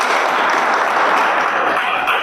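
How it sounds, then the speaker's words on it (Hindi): A large audience at a motivational business seminar bursts into sustained, dense clapping that fills the room, close and even throughout. "बजाओ ताली इनके लिए"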